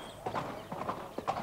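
Horses' hooves clip-clop in a steady walking rhythm at royal stables in India, three pairs of clear hoof strikes, fairly close, with no talking.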